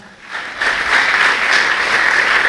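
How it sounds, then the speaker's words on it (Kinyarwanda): A church congregation applauds God during a sermon, the clapping rising quickly from a lull into a loud, dense, sustained round of many hands close by. "Komera Imana amashyi kandi."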